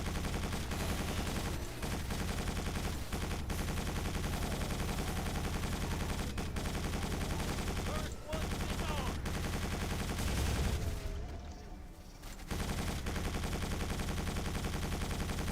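An inaccurate gun in Quake 4 fires in a dense, continuous stream of rapid shots, loud and sustained, with a brief pause near the end before firing resumes.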